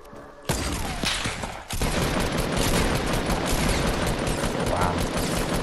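Rapid shotgun and automatic gunfire in a Fortnite match, loud and dense, starting with a sharp blast and continuing as a sustained barrage of overlapping shots.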